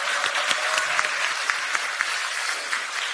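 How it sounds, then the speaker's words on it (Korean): Steady applause from a crowd at a Democratic Party election campaign launch rally in Seoul, a dense wash of clapping that carries on evenly across the whole stretch with no voices on top. "격려의 박수도 한번"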